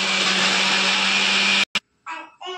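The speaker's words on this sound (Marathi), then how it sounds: "आता मिक्सर लावून ग्रेव्ही करून घेऊ" A kitchen mixer grinder whirs loudly, blending onion, tomato and coriander into a gravy for kadai paneer. The steady high motor drone stops abruptly, and a voice then speaks briefly.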